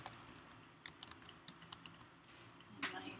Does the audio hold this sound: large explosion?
no